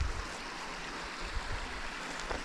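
Steady broadband rush of flowing water, the Tweeden Burn stream running over stones, continuous and fairly close with no voices.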